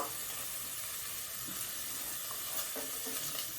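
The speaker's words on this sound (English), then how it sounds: "listen to that sizzle. It's starting to render down." Ham sizzles steadily in a frying pan as it renders down, a loud, continuous crackling hiss close by with faint stirring noises underneath.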